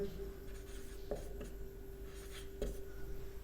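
Chalk or marker writing on a board during a Hindi spelling lesson, faint scratchy strokes in short bursts over a low steady hum, with no speech.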